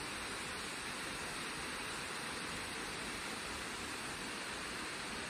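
Gyoja waterfall at Mount Kurikoma in spring, running low on water, gives a constant dense roar of falling water, near and unbroken, with no voices.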